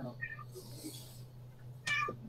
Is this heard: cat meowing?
yes